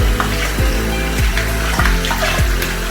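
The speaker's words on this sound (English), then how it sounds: "I'm gonna start by rinsing her off." Water runs steadily into a bath as a puppy is rinsed off, a continuous close splashing and gushing stream with no talk over it.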